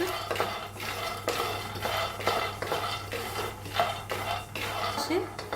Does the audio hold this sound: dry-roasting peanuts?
yes